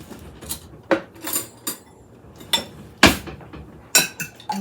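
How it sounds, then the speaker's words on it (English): Cracked eggs get whisked in a bowl, producing sharp irregular clinks of the whisk against the bowl's side, a few scattered taps close by with quiet gaps between them. "we're just going to whisk up our eggs"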